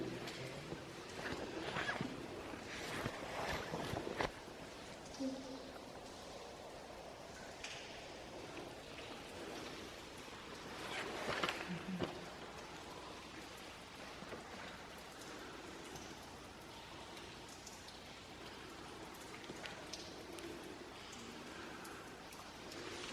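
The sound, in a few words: water sounds inside Cathedral Caverns cave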